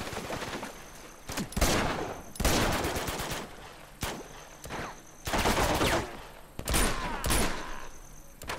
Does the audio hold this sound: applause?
no